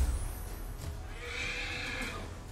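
Horse neighing in the video game Pathfinder: Wrath of the Righteous, a single drawn-out whinny heard fairly close over a low background rumble, with no talk.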